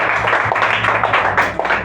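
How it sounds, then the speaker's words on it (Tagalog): A church congregation at Sunday Mass breaks into steady, dense applause, a continuous wash of clapping filling the room at close range with no break. "isang malakas na palakpak po sa Panginoon"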